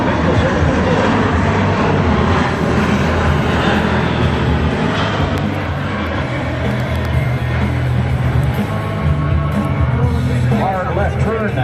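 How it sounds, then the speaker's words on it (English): A C-17 transport aircraft, a large plane with upturned wingtips, makes a hard left turn at the 2017 Stewart Air Show. Its continuous, loud jet roar carries on throughout while an announcer talks over it. "Hard left turn now, showing you the aircraft is extremely agile at both high and low speeds"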